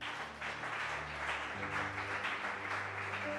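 A church congregation applauds at a deliverance prayer service, with sustained, moderately loud clapping over a backing of organ-like music.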